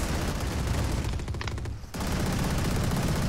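Gunfire in the Valorant video game comes as dense, continuous rapid shots and bursts. The clattering volley stays loud throughout, with a brief dip in the middle before it resumes.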